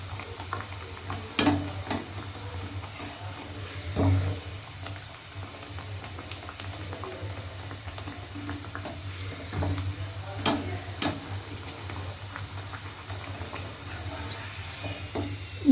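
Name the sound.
kachori deep frying in oil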